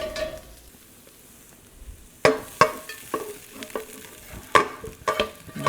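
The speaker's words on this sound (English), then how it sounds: "I'm going to transfer this to a bowl and combine it with my other" Cooked bacon, capers and olives scraped from a hot pan into a bowl: after a quiet start, sharp utensil scrapes and knocks come in irregular bursts, with a faint sizzle underneath.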